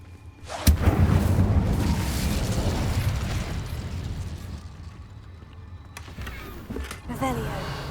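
An Incendio fire spell cast in Hogwarts Legacy gives a sharp burst followed by a sustained roaring, crackling rush of flame that slowly fades, with another quick flare near the end and game ambience underneath.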